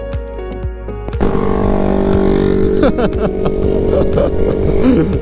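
A carbureted motorcycle engine starts after a second of quiet, then idles loudly and steadily nearby, with people talking over it.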